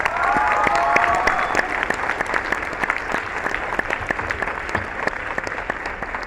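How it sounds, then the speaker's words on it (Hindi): A dense, sustained round of applause fills a hall at a company speech event, many hands clapping together loudly and continuously, fading slightly toward the end. "आप अपने लिए एक बार जोरदार तालियां बजाइए प्लीज।"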